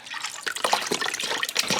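Water running from a tap into a cooking pot while making lasagne, a close, steady splashing and trickling fill that lasts a couple of seconds with no talk over it.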